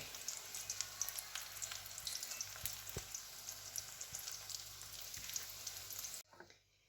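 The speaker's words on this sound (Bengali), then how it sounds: "আমার সব মাশরুমগুলো ভাজা হয়ে গেছে" Mushrooms frying in a pan, with a steady close crackling sizzle full of small pops and a few louder spatula knocks, cutting off abruptly near the end.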